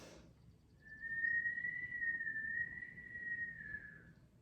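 Children blow a single soft, sustained whistle imitating a snake's hiss during a kids' yoga exercise, one steady tone lasting a few seconds, quiet and close.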